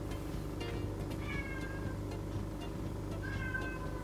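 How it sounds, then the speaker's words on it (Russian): A cat gives two faint, rising meows a couple of seconds apart over a steady low background hum; the sound is quiet and somewhat distant. "Мяу!"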